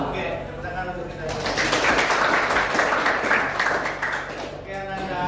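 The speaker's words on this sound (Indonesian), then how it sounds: "Oke, tepuk tangan untuk kita." A classroom of students claps together in a burst of applause lasting a few seconds, moderately loud with a noisy room tone before and after.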